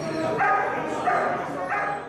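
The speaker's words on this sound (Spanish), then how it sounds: "un perro atacó a un hombre" A dog at a US prison barks aggressively in three loud, close bursts over about two seconds while a voice speaks underneath.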